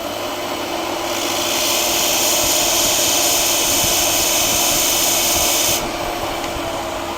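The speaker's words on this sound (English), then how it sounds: "we have to abrade the shaft so that we can make sure that our epoxy sticks" Abrading the graphite shaft of a golf club for a custom Miura TB-901 iron with a Fujikura shaft, giving a continuous loud, hissing rub that runs for about five seconds before stopping abruptly, with no talk.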